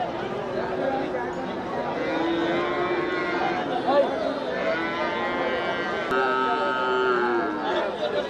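Native breed cattle low and moo repeatedly at a busy livestock market in Melapalayam, the calls carrying over steady crowd chatter and voices throughout.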